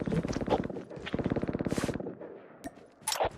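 Rapid gunfire in the mobile game Call of Duty Mobile, with a close burst of fast repeated shots, a brief pause and then a couple of sharp single cracks near the end.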